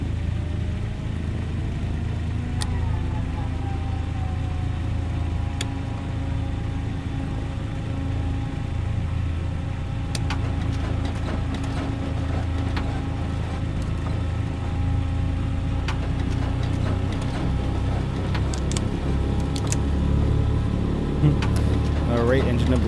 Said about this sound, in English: engine number 1 sounds like she's come to life nicely